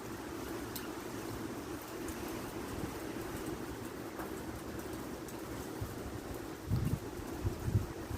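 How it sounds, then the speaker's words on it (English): Steady storm wind blowing over open water in Savannah, Georgia on a late afternoon, a constant low roar and rumble with occasional stronger gusts, heavy and continuous with no voices. "You can tell the wind is going."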